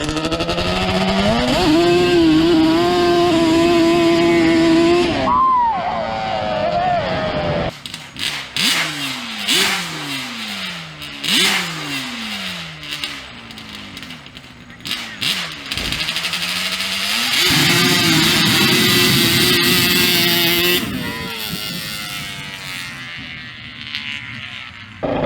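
A Yamaha Banshee ATV two-stroke engine fitted with cheap aftermarket Amazon carburetors revs loudly up close in second gear, with pitch climbing in repeated sweeps between shifts and a sustained high whine near the end.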